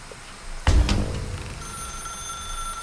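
A telephone rings in The Stanley Parable video game: a sharp double ring sounds up close, followed by a sustained, steady electronic tone that hangs on alone.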